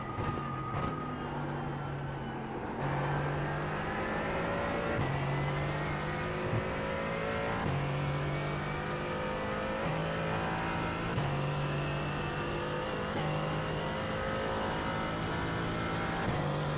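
Mercedes-AMG GT4 race car in iRacing, its engine droning continuously at racing pace, with repeated upshifts stepping the pitch down every couple of seconds and no talk over it.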